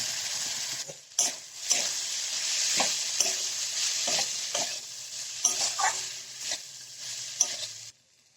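Pasta fries in spices, sizzling steadily in a hot pan while a utensil stirs and scrapes it in repeated strokes, close and fairly quiet.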